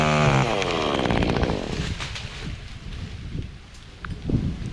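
A chainsaw is cut with by a tree climber up in a tree. A rising, revving engine whine starts loud, then drops to a rougher, fainter idle amid wind buffeting and rustling.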